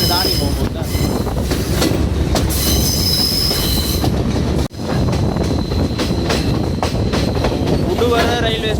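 A train pulling into Uduwara railway station in Sri Lanka, loud and close, with steady wheel rumble, rhythmic clacking and high metallic squeals from the wheels, plus a brief jolt midway.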